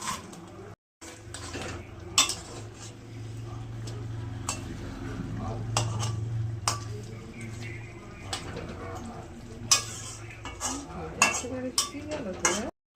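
Pieces of bhola fish added to a simmering spicy curry and stirred in a pan, with repeated clinks and scrapes of a utensil against metal over a soft low bubbling.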